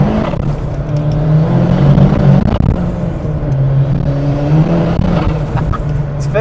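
A 560bhp Ford Sierra Cosworth accelerating hard with wheelspin, heard from inside the car as a loud, steady engine drone with a shifting whir, and no talk over it.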